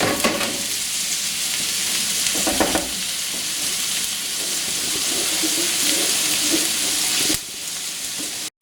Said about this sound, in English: just brown these onions off nice and golden brown until they're translucent